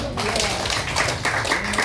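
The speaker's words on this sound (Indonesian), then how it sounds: "Tepuk tangan bagi Tuhan." Congregation at Bethany church in Tambak Rejo claps together in a steady, dense burst of applause that fills the hall, with voices mixed in.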